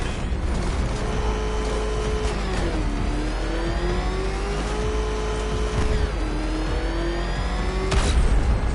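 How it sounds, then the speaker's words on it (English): Batmobile in the game Batman Arkham Knight: a continuous engine drone with rising and falling revs and shifting pitch, loud and steady throughout, with mechanical whine layered over it and no voices. "Can that ramshackle motor handle this?"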